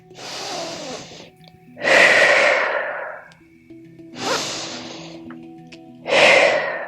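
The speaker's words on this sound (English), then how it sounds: "Two more breaths, breathing deep down into the lower belly" Deep, slow yoga breaths drawn down into the lower belly: four long, close breathy rushes of air in a steady rhythm, with short quiet pauses between them and no talking.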